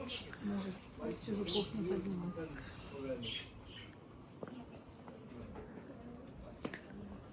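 Small birds chirp and tweet faintly on Santa Cruz street in Alicante, Spain, with short bright calls scattered through the clip while people talk nearby over low street ambience.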